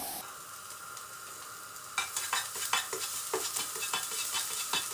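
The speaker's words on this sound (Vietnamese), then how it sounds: "Một phần tỏi trước, xào tỏi lên." Garlic stir-frying in a hot pan for Vietnamese chicken curry, a constant close sizzle that turns busier halfway through as a utensil scrapes and tosses it in quick repeated strokes.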